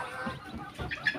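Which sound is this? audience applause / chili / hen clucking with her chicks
hen clucking with her chicks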